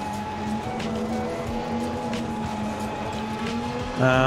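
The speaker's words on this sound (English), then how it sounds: "the car sounds great. That's not bad. The road noise and stuff." A race car engine in the video game Assetto Corsa Competizione hums at steady pitch with road noise beneath, then rises sharply in revs near the end, heard alone without talk.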